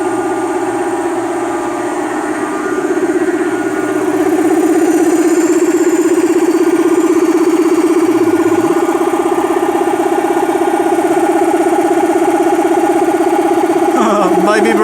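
A PLINT compressor system runs with a loud, steady mechanical hum and drone that rises slightly in level early on and then holds constant, with a brief clatter near the end.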